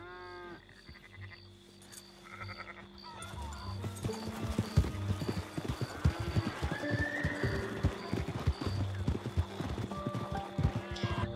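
Horse hooves clip-clop in an irregular rhythm over the Red Dead Redemption 2 game soundtrack, with a horse's whinny and other farm animal sounds nearby.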